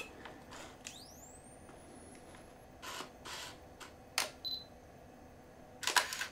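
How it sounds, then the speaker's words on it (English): A 35–80 mm zoom lens on a film camera from an auction lot whirs as autofocus drives, followed by several short mechanical clicks and the high whine and pop of a flash charging and firing, all close and quiet. "Autofocus is working and the flash fired."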